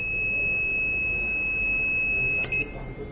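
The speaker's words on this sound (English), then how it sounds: "If I remove my hand, then automatically it will give a buzzer alert." A touchless fog-disinfection dry hand-washing machine sounds a steady high-pitched electronic buzzer alert continuously when a hand is removed, cutting off near the end, with low background hum beneath.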